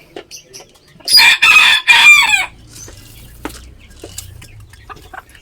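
Polish Frizzle and Polish chickens kept as breeders in a backyard give a loud, close crow that is followed by scattered soft clucks and quiet rustling.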